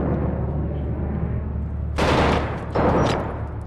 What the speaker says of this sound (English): Getting shot from the opposite direction.